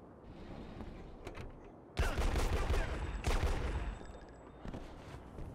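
Gunfire in the video game IGI 1: a few sharp, loud shots with a booming decay, separated by short gaps, over a low game ambience.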